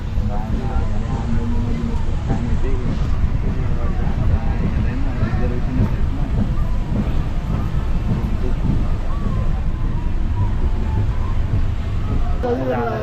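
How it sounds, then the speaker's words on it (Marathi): A crowded Sawantwadi Express train runs along after departure, a loud, constant low rumble and rushing wind noise heard from inside the coach, with voices talking over it. "सो आता फायनली ट्रेन निघाली इकडून अर्धा तास लेट झाली"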